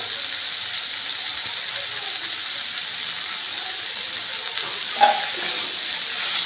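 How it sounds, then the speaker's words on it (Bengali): Vegetables and moong dal sautéing in a pan give a steady, even sizzle, with one brief clink from a utensil partway through. "ডালটা দিয়েও একটু কষিয়ে নিচ্ছি"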